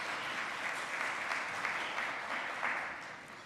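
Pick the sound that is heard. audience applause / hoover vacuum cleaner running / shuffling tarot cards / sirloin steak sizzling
audience applause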